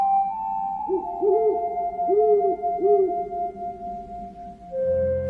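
An owl hoots in a wooded setting at night, a run of four soft, rounded calls in steady rhythm over a constant low tonal hum, fairly near and clear.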